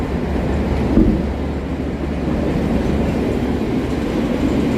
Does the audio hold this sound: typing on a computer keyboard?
no